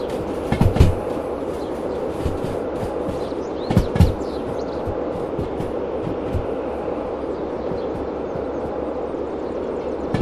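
Train rolling on rails in the Derail Valley simulator, a steady rumbling hum with rattling clatter and a few sharp metallic clanks and bumps, continuous and fairly loud, no talking.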